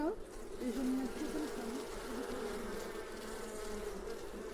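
Honeybee colony buzzing steadily while being moved from a nucleus box into a full hive, a dense continuous hum of many bees close by with no talk over it.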